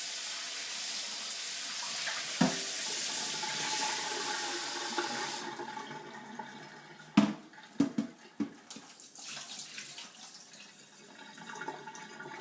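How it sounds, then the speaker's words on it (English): Cold tap water runs steadily over raw chicken pieces in a kitchen sink while they are rinsed for adobo, the flow stopping partway through and followed by a few sharp clunks and splashes. "And in cold water, I'm going to give it an additional rinse."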